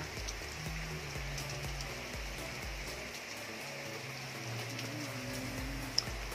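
Rain falling at a beach resort in Tinambacan Sur, Samar, a steady even patter with a low rumble beneath and one sharp tick near the end, no voices.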